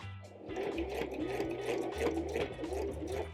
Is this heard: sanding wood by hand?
no